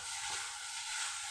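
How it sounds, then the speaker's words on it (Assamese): Cumin powder and coriander powder fry in hot oil in a pan, giving off a steady, even sizzle that hisses on without a break and stays fairly soft, with no voices. "এতিয়া এইখিনি তেল বিৰিঙি অহালৈকে ভাজি ল'ম।"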